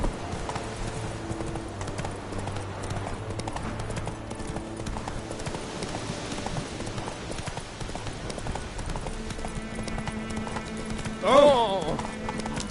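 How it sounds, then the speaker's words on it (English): A horse's hooves clip-clop at a steady walking rhythm in The Witcher 3 video game, close and continuous, with a brief whinny and some talk near the end. "Whoa there, Roach."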